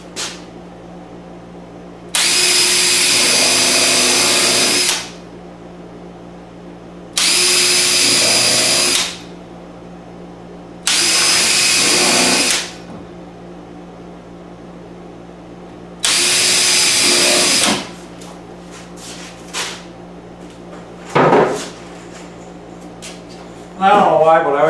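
A power drill drives screws into a kitchen base cabinet in four close, sustained whirring bursts of a few seconds each, separated by quieter pauses with faint low background hum and small handling noises.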